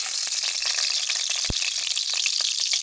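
Fish frying in oil with a little butter gives a dense, bright, steady sizzle with occasional pops and one sharp knock, close up.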